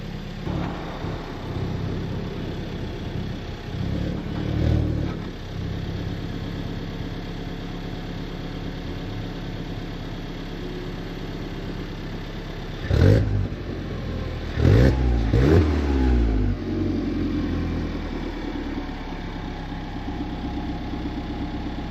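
An Alfa Romeo 4C engine idles loudly and steadily on a freezing, snowy day as the car pulls out of a garage, with a few low revs and brief bumps of throttle over the continuous drone.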